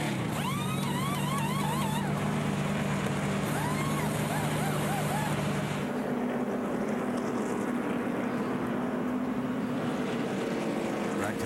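NASCAR Nationwide stock cars at Talladega, engines droning in a sustained roar as the pack circulates, with a commentator talking over it.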